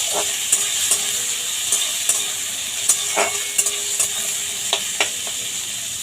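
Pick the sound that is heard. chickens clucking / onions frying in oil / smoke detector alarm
onions frying in oil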